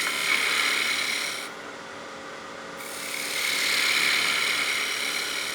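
A skew chisel cuts an ogee profile into spinning wood on a lathe, giving a steady, close rasping hiss that eases off briefly in the middle and then swells back up.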